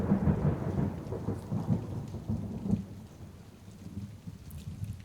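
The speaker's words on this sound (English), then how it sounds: "That is the sound of thunder." Deep thunder rolls and rumbles continuously under steady falling rain, loud at first and easing toward the end, with no voices.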